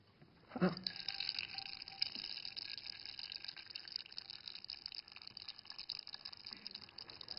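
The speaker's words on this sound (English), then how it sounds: "When you melt the ice, the bubbles are released and they pop and fizz" Faint continuous crackling and fizzing as air bubbles pop from melting Antarctic glacier ice, like tiny bubbles popping steadily, with a brief louder knock near the start.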